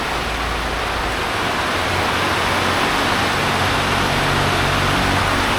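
A dense, unbroken hiss of heavy typhoon rain fills the space, loud and uniform from start to finish with no voices.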